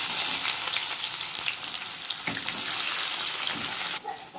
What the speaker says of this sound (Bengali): প্রথমে দিয়ে দিচ্ছি পেঁয়াজ কুচনো